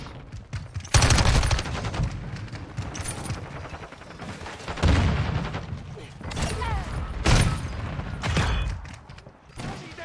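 Bursts of automatic gunfire and shots from a Modern Warfare 2 multiplayer match, loud repeated volleys over a background of game sounds.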